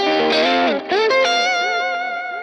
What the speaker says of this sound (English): Everyone loves their triads, whether it's like this or like this.